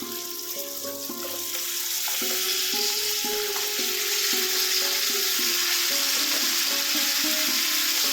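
Vegetables sizzle and fry steadily in a pan for a Bengali pui-meturi ghanto, with a continuous crackling hiss and repeated scraping knocks from stirring, close and fairly loud throughout.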